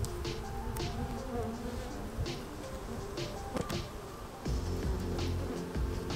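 Honeybees buzz steadily while a nuc is installed into a backyard hive, a dense continuous insect drone close by with a few sharper passes of individual bees.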